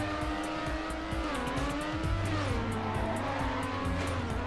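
Race car drifting in the video game Trackmania Nations Forever, a loud, continuous engine whine that rises and falls in pitch as the car slides, with a steady game soundtrack beneath and no talk.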